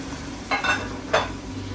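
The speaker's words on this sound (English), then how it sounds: "in this now we're going to add about 150 millilitres of white wine" White wine poured into sizzling risotto rice in a hot pan, two brief hissing bursts rising over a steady low frying crackle.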